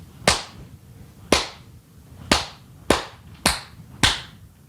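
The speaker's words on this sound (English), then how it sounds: "And if I clap that pattern without counting," Six sharp, close hand claps spaced unevenly in a hemiola pattern, each crisp and dry with a short decay, clear against a quiet room with no talking.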